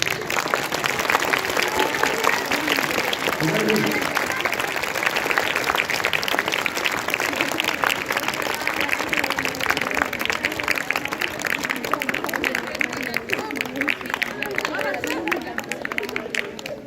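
An audience claps throughout a school theater workshop at JNV Ambala, with a steady, dense wash of applause lasting the whole stretch, and a voice talks faintly beneath it at times.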